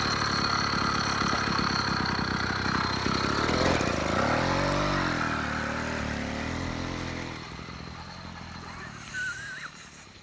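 A two-stroke engine idles steadily and fairly close by at a beach, a continuous buzzing drone that gradually shifts in pitch and then eases off toward the end.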